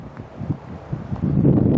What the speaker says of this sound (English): But it's pretty windy up here also